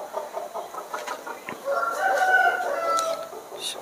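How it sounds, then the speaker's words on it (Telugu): A brooding hen on a farm, sitting on eggs, gives out clucking and crowing-like fowl calls, fairly close and continuous, with a louder drawn-out call in the middle of the stretch. "ఇదైతే మన కోడి, పొదుగు వేసిన కోడి"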